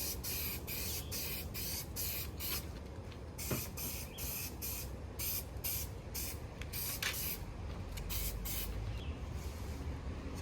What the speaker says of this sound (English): So take your adhesive and we're going to give it a little spray like that.